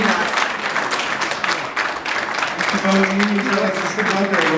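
Young people applauding priests onto the stage at an all-Ukrainian Orthodox youth congress, steady crowd clapping with voices and a tonal sound emerging in the second half.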